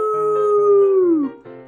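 A human voice imitates a dog's howl, giving a sustained, sliding "arroo" that bends downward at the end, loud and close, followed by a second shorter start.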